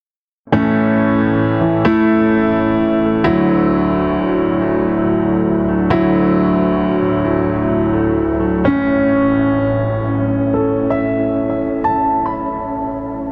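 Grand and upright pianos layered with effects play chords struck every second or two, with rich sustained tones and a washy reverb tail blending the piano timbres, played alone.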